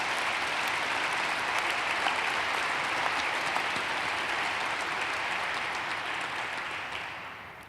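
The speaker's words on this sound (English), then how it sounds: "It's wonderful to note that the men are clapping even louder." Dinner audience at a global leadership event applauds with steady, dense clapping from a large room, sustained and then gradually fading toward the end.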